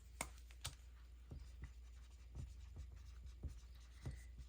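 A pen writes on paper in a quiet room, giving a series of soft, close scratching strokes in an irregular rhythm over a faint low hum, with no talking.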